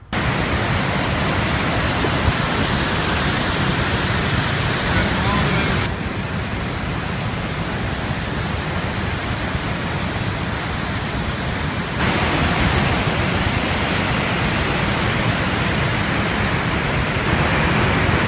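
Victoria Falls in Africa roars with its waterfall and rapids: a dense, steady wash of rushing water fills the whole stretch without letup, swelling and easing slightly in level.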